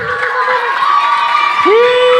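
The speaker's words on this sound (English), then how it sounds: "Everybody give a round of applause to Jai." Youth revival audience cheering and clapping for someone called up front, a loud steady crowd roar with whoops and a voice talking over it.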